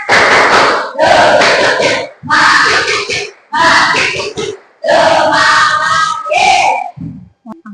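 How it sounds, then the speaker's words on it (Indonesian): A school class performs the tepuk semangat spirit clapping chant, loud group chanting in bursts broken by sharp claps, ending with a few quieter slaps near the end. "Tepuk semangat!"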